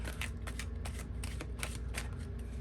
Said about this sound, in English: my hands are getting tired from shuffling these cards